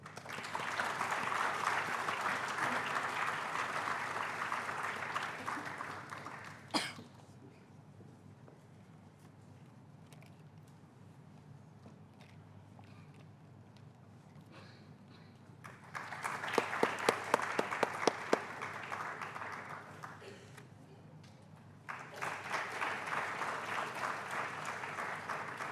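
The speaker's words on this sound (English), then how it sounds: "Please join me in extending a warm round of applause" Applause at an HR conclave comes in separate waves of clapping with quieter stretches of room murmur between them.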